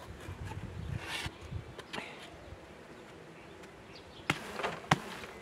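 Honeybees buzzing at a hive during a spring swarm check, a steady close insect drone with a few sharp knocks and handling sounds breaking through near the end.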